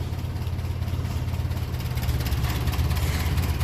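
A 1957 Ferguson 35 TVO tractor engine idles at around 800 revs with a steady, low, throbbing rumble, moderately close and unbroken by talk.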